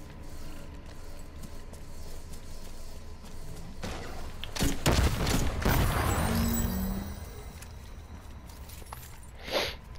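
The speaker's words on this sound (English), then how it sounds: "who the freak is shooting me?" Gunfire in The Division 2, a burst of shots around the middle standing out over steady game ambience, with a sharper crack near the end.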